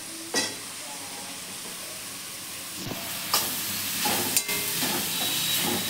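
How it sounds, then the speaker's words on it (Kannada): Capsicum goes into a hot pan and fries with a steady, close sizzle and hiss, broken by a few sharp clatters of stirring against the pan. "ಕ್ಯಾಪ್ಸಿಕಮ್ ಹಾಕೋತಾ ಇದ್ದೀನಿ."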